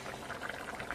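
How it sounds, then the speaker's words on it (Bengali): Fish curry with banana and potato simmers in a pot, a soft, close bubbling with small repeated pops over a quiet, steady boil. "মাছের ঝোলটা ফুটছে, কলা আলু মাছ ঝোল।"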